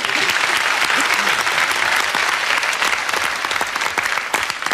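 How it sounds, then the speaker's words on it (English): A television studio audience on a game show claps in steady, sustained applause for several seconds, dense and even throughout. "I'll give him a round of applause."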